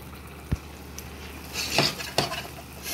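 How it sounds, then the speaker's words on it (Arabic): Béchamel sauce being stirred as milk goes into a golden toasted roux, with soft scraping and faint sizzling, a few sharp utensil clinks against the pot, close and fairly quiet. "نحط عليه اللبن بقى ونقلبه كويس"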